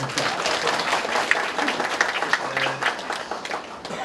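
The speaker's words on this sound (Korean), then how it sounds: "명영관 군수님께 뜨거운 박수 한번 부탁드립니다" A crowd at a county community meeting in Haenam gives the county governor a warm round of applause, with loud, continuous clapping throughout and faint voices mixed in.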